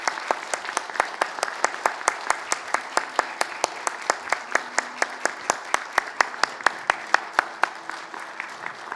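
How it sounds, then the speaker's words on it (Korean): A church congregation claps for a flower bouquet presentation at a Sunday service, sharp and evenly spaced in unison, loud and close, keeping a steady rhythm throughout. "우리 여러분 힘찬 박수 다시 한번 보내주시기 바랍니다"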